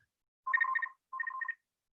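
A phone rings twice in two short electronic trilling bursts, clear and fairly loud, during a work-from-home webinar, with silence around the rings and no talking.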